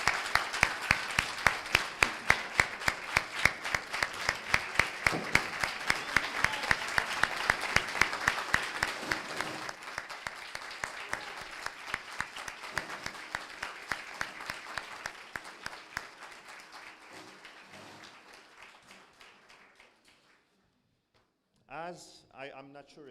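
A graduation ceremony audience applauds the student services team, with loud rhythmic clapping that gradually thins and fades to silence, followed by a short final burst of claps.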